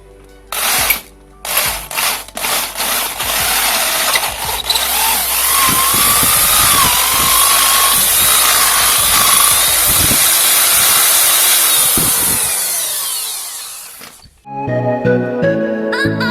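A power drill whirs for a long, steady stretch while enlarging a metal coilover sleeve to fit over a standard shock absorber. Loud and close, it starts with brief bursts, runs continuously, then stops, followed by scraping and clinking.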